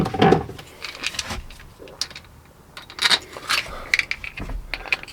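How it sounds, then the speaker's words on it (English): Crank handle fitted back onto a fragile, ratty old vent lid, giving a run of small metallic clicks, scrapes and ratcheting knocks in irregular bursts, close up and fairly quiet. "we can put the crank handle back on"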